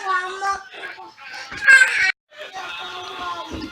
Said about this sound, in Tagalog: medyo maingay doon sa aking background kasi yung mga bata